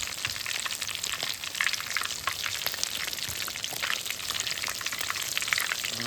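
Pomfret fish fritters fry in oil with a continuous crackling sizzle and scattered popping bursts, close and even throughout with no talking.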